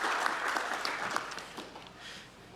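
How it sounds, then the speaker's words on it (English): An awards-ceremony audience applauds the winners of an innovation award, with dense, continuous clapping from a crowd that starts strong and gradually tapers off over a couple of seconds. "A round of applause to them."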